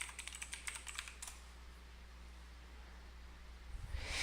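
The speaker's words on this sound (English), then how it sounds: "So I'm going to go ahead and type in my password." A password is typed on a computer keyboard as a quick, close burst of light key clicks lasting about a second, then a quiet room hum, with a soft rustle near the end.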